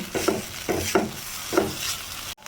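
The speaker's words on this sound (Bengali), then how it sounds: "দিয়ে দেওয়ার পর খুব ভালোভাবে নেড়ে চেড়ে কিছুক্ষণ আবারও রান্না করে নেব।" Noodles and vegetables stirred in a pan, with about four rhythmic scraping strokes of a utensil close up over a soft sizzle.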